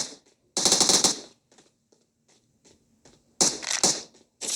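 Automatic gunfire in the PUBG shooter game, two loud close bursts of rapid shots separated by a quieter stretch with faint clicks, and a third burst starting at the end.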